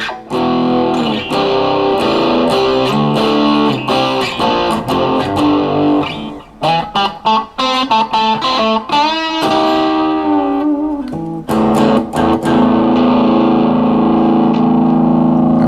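Heavily distorted electric guitar playing chords and riffs through a Boss GT-100 multi-effects unit, loud and sustained, with a brief choppy staccato passage in the middle.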